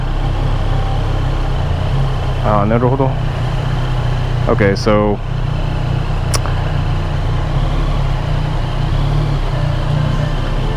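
A motorcycle engine idles in Tokyo traffic as a steady low rumble running throughout, with someone speaking briefly over it and a short sharp click near the middle.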